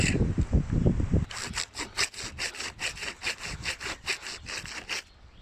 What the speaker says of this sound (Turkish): Onun için testere getirdim.